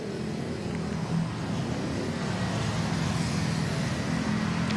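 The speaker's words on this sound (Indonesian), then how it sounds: "Tepat di belakang saya ini jumlah kendaraan roda 2 maupun roda 4 sudah mulai ramai melintasi jalur Kalimalang" Motorcycle and car traffic roll past on the Kalimalang road in East Jakarta during the Lebaran 2023 homecoming rush. It makes a steady, even roadway rumble with no talk.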